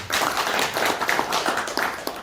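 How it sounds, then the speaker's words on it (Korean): Attendees at a formal forum ceremony clap loudly and closely for a brief stretch, the clapping surging in uneven bursts. "다시 한번 큰 박수 부탁드리겠습니다"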